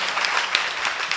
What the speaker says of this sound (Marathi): एकदा त्यांच्यासाठी टाळ्या.